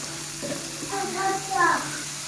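Steady sizzle of spices with broken green chilies frying in a pan for an egg-and-chicken roast, with a few stirring scrapes, while a voice speaks briefly over it.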